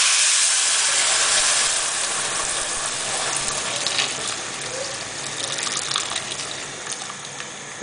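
Steady rushing gush of water pouring continuously into a cooking pot, a broad hiss that stays loud throughout with no talking.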